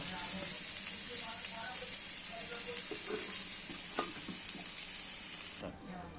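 A cashew and poppy seed paste sautés for chicken rezala with a constant, bright sizzle and soft stirring scrapes throughout. The sizzle drops away abruptly near the end.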